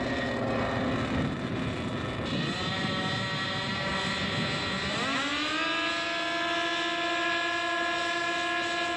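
Scale model aircraft at an air show taking off, a loud sustained engine drone that rises sharply in pitch midway and then holds a steady high whine.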